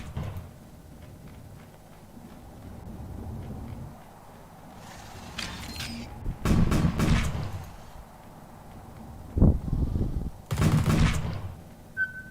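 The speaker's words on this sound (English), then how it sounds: "Avoid the artillery blast." Gunfire and artillery blasts in the sci-fi video game The Red Solstice, a few sharp blasts and bursts of shots separated by quieter stretches of low ambient rumble.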